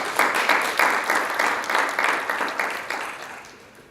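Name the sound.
audience applause for a graduate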